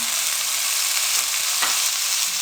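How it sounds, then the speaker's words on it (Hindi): Chopped carrots and potatoes frying in a pan, a loud, dense, steady sizzle with a few soft stirring scrapes, close up and free of speech. "अब इनको हम 1 से 2 मिनट के लिए फ्राई कर लेंगे।"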